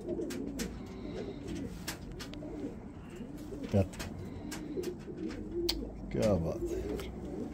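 Breeder pigeons coo softly and repeatedly in a loft, low throaty calls rising and falling close by, with someone talking over them throughout.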